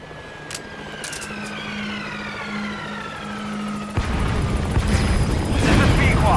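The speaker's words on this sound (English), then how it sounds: "They shot down the chopper." A support helicopter is shot down in Metal Gear Solid 5: a steady rotor drone runs with a low hum, then a sudden loud burst of explosion and crashing noise takes over and roars on to the end.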